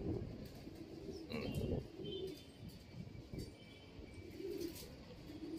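A returning bird coos softly in a series of low, repeated calls, faint and somewhat distant, with light rustling between the coos and no voices.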